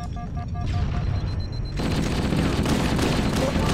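A grenade blast and rattling gunfire in Halo CE: a burst of rapid shots gives way to a sustained, noisy roll of explosion and overlapping fire, moderately loud with no talk.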